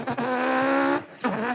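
A man mimics a race car with his voice, a buzzing, rising engine whine held for about a second, then a brief gap and a second shorter revving burst, close and clear.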